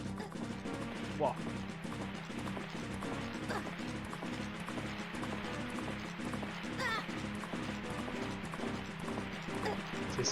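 Zelda: Majora's Mask game audio: a steady, rhythmic clatter of horse hooves trots along under busy game sound effects and a faint voice, even and continuous throughout.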